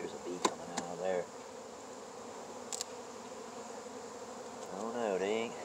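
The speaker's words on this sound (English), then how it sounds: "there's a bee coming out of there" Honey bees buzz steadily around a beehive in Fairplay, Maryland, on a February day, a soft continuous drone with a few brief clicks and a louder swell near the end.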